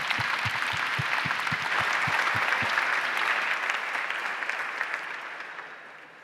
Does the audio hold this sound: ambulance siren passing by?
no